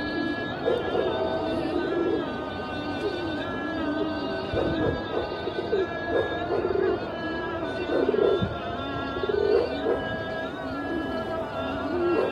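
Pigeons in a loft coo over and over, close and continuous, their soft warbling calls overlapping with some faint background noise.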